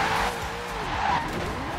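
A car in Forza Horizon 4 skids while drifting, a continuous loud tire squeal over steady engine roar, close and unbroken throughout.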